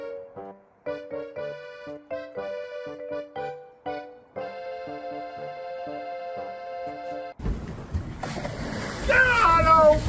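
Water splashing on an outdoor adventure in Alaska, a loud rushing burst of splashes near the end, after a stretch of steady tonal music.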